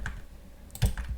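Computer keyboard keys clack in a short burst during a web scraping tutorial at a browser console, a few quiet clicks and then one louder thump near the end, with no talking.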